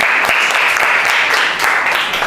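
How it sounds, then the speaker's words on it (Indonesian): Applause in a school classroom praising a student's correct answer during a lesson: steady, dense clapping from many hands, fairly loud and continuous throughout. "Beri aplaus"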